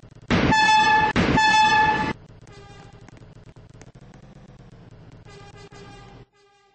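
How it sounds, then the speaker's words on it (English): A New York subway R40 F train arriving at a station gives a loud, two-part horn blast up front, then settles into a steady, lower rumble of rolling cars that fades at the end. "There is a local train approaching the station."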